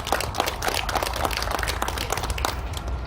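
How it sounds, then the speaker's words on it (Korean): A ceremony audience at a memorial gathering in Tapgol Park, Seoul, gives soft, dense, continuous applause that sounds somewhat distant. "다시 한번 큰 박수 부탁드리겠습니다."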